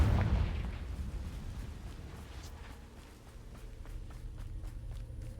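A Confringo fire spell blasts in Hogwarts Legacy, with a heavy booming impact at the start followed by rumbling debris and faint footsteps in the game.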